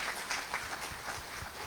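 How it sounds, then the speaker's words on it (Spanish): Faint, steady applause from a conference audience at a diploma course on AI in research, a soft patter of many hands clapping throughout without any voices. "Un aplauso ahí."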